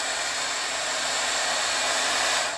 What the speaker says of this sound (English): so that blow dryer